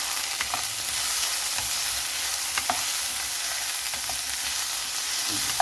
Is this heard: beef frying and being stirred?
yes